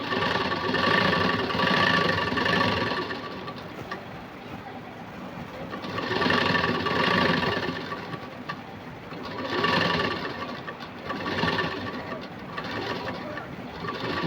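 A sewing machine runs steadily and close, stitching lace onto a puff sleeve with a continuous whirring drone that swells and eases in waves, without pauses or speech.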